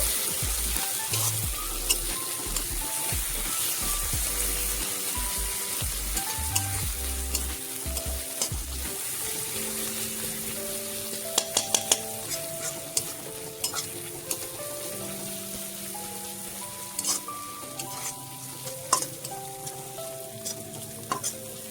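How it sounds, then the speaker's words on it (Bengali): Onion and panch phoron paste frying in a pan for a prawn, poi saak and potato dish, a constant close sizzle with frequent scraping stirs and utensil knocks, under gentle background music, no voices. "এবারে দেবো পেঁয়াজ আর পাঁচ ফোড়ন বাটা অল্প পরিমাণে। সামান্য একটু কষে নেব।"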